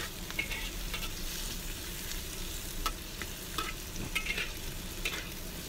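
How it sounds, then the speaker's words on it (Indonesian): Shrimp and fresh squid stir-fry for a seafood siomay dish, giving a steady, dense close-up sizzle with frequent light scrapes and clicks of a spatula stirring in the pan. No voices. "Oke, aku oseng lagi agar matangnya merata."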